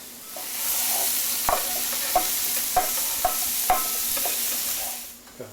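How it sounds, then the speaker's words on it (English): Onions sauté in a pan with a continuous sizzle, and a spoon scrapes and taps the pan bottom at a steady stirring rhythm. The sizzle fades at the end. "our onions are sauteing up really nicely"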